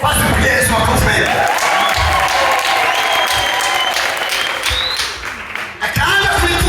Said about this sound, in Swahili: Basi kwa Yesu makofi.